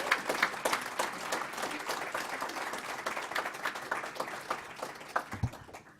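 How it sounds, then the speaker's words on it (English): Applause fills a ribbon cutting ceremony: an audience claps steadily in a dense, moderately loud patter that thins toward the end, with no speech over it. "Another round of applause."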